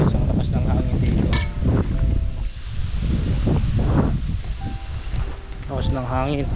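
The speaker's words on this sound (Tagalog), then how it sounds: "tignan nyo guys ang lakas ng hangin dito" Strong wind buffeting and roaring across the microphone in gusts, with people talking underneath.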